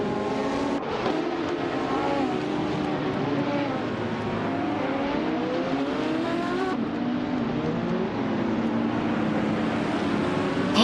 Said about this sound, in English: We're about to watch some exciting AI cars race against each other.